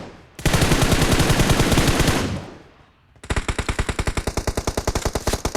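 Automatic gunfire in the mobile shooter game BGMI, a loud sustained burst of rapid shots that fades, then a second rapid, evenly pulsed burst of fire, with no talking over it.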